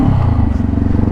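A motorcycle ridden across a bridge on a river route in General Nakar, Quezon Province, with a loud, close engine rumble and rattling clatter that pulses steadily throughout.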